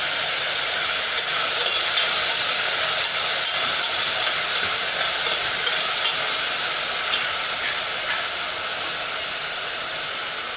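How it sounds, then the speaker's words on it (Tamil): Green capsicum and other vegetables sauté in a hot pan for mushroom fried rice, giving a continuous loud sizzle and hiss. Faint scrapes of stirring sound under the frying, and no one speaks. "பச்சை குடமிளகா, எல்லாத்தையும் லேசாக வதக்கணும்."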